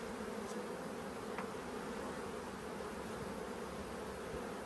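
Honey bees in a large, crowded hive during a split to raise queens give off a dense, steady, close buzzing hum that never lets up.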